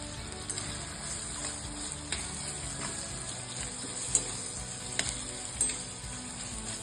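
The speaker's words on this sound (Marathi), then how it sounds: "टोमॅटो चांगलं मऊसूत होईपर्यंत परतून घ्यायचं।" Tomatoes sauté in a pan for paneer bhurji, giving a steady moderate sizzle with a few small clicks and scrapes scattered through it.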